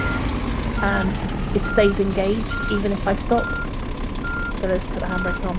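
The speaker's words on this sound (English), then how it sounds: "reversing noise, and it stays engaged even if I stop" Regular electronic reversing beeps from a truck backing up with hazards on, repeating steadily over a low idling engine rumble while someone talks.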